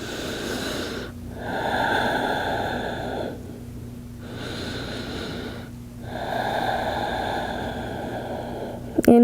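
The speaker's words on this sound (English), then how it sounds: "Breathing into the belly." A yoga instructor breathes deeply into the belly during a flow class, with long slow inhales and exhales alternating in three clear, close-up cycles, followed by a brief click at the end.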